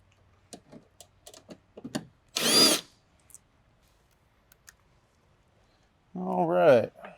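On a RZR off-road vehicle, a power drill whirs in two short, loud bursts as bolts come out of the outer skin panel, with quiet clicks and handling noises between them.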